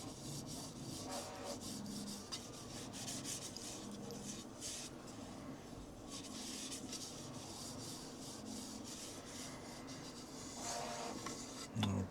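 A rag rubs wax onto a black walnut wooden bowl with soft, repeated scrubbing strokes. The sound is quiet and close, with a few louder scrapes near the end.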